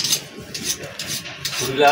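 A kitchen knife is sharpened on a stone, producing quick, repeated rasping strokes close by, with a light metallic scrape toward the end and no talking.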